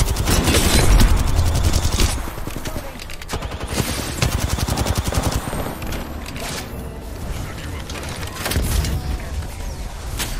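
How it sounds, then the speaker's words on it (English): Enemy team's gunfire in the video game Apex Legends: loud, rapid automatic bursts that run almost continuously, with short gaps and a heavier opening volley. "There was a team behind us shooting, I think."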